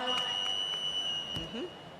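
Challenge buzzer at a women's international volleyball match, a steady high electronic tone sounding over arena crowd noise with a commentator speaking.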